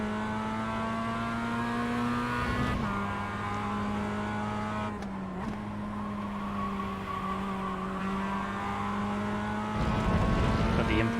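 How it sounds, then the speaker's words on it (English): A Mazda MX-5 Cup race car in the iRacing sim at Okayama holds a steady, buzzing high-rev engine note near its limiter, with brief dips at gear changes and a rough surge near the end. "I tend to hit red line every time coming out of that corner. Or the rev limiter, I should say."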